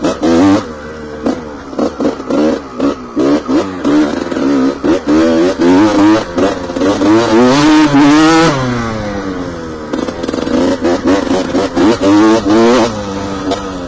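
A 1988 125cc enduro motorcycle engine revving hard on the move, repeated rising and falling throttle bursts with gear-like pitch sweeps, loud and close, no talking over it.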